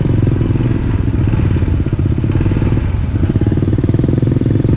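A motorcycle engine runs loud and close with a rapid, steady thumping idle and some clatter throughout, without speech, during a trip carrying chili seedlings for planting.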